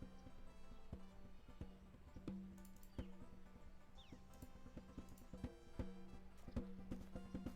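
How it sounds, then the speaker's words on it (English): A horse in the adventure game Gabriel Knight: Sins of the Fathers clops along with steady hoofbeats, faint and somewhat distant, over a low ambient hum. "Horse!"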